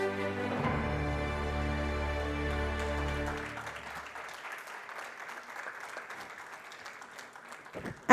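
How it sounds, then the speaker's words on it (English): Audience applause at a stage event for Bless Retirement Living: a few seconds of sustained musical tones give way to a steady, dense clatter of clapping that carries on to the end. "So I think she really deserves a good round of applause."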